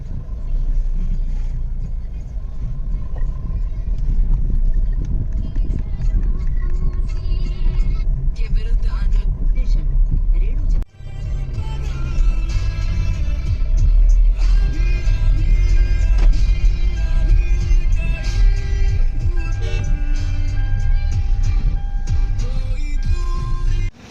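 A car drives off after its engine has been started, pulling out of a parking spot toward an office. A steady low engine rumble carries on throughout while someone talks over it.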